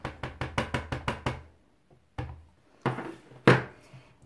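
The hinged door of a Stamparatus stamp positioning tool is handled, giving a quick series of about eight sharp wooden-sounding knocks, then a pause and a few louder clacks and a bump.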